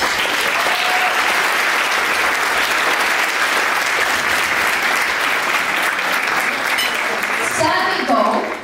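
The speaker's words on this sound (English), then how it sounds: "So, applaud yourselves today for coming here today" A crowd at a charity gala applauds steadily and loudly for several seconds, a dense wash of clapping, before a voice begins speaking near the end.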